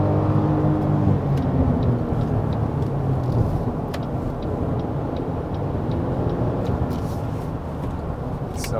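A 2019 Chevrolet Colorado pickup driving slowly at night through Gangnam, Korea, with a steady low engine drone and road rumble heard from inside the cab, faint ticks scattered on top.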